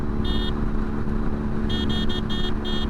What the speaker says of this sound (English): How does the horn sound?